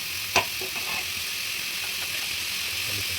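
Chopped onions frying in a pan with ginger garlic paste, a steady close sizzle and hiss, broken early by a single sharp clink of a spoon against the pan and a few faint stirring scrapes.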